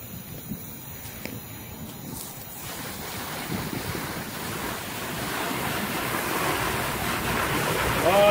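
Water sprayed onto a temporary encapsulation wrap, a rushing, hissing wash that builds and grows steadily louder, with wind buffeting the microphone.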